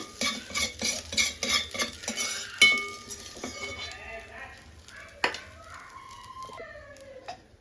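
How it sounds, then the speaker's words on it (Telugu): Chopped vegetables hit hot oil for stir-fried noodles, making a close sizzle under rapid rhythmic scraping and clanking of a spatula against the pan, then sparser stirring strokes with a few sharp knocks. "మళ్ళీ కొంచెం ఆయిల్ యాడ్ చేసుకొని మనం కట్ చేసుకున్న వెజిటేబుల్స్ వేసుకోవాలి"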